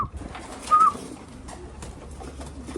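Racing pigeons in a loft give a single short coo, close by and fairly soft, against a steady low background hum.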